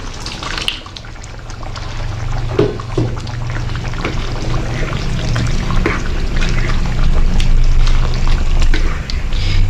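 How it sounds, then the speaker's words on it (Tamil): Boiled lentils are poured into a pot of sambar, a close, steady liquid pour that keeps streaming for nearly ten seconds with small splashes and glugs. "இந்த பருப்பை இதில் சேர்த்துடலாம்"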